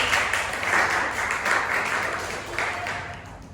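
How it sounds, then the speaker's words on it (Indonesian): Small studio audience of a podcast applauding its guests, a brief burst of steady clapping that swells and then slowly fades, close and moderately loud, with no talk over it. "Tepuk tangan dulu dong buat mereka."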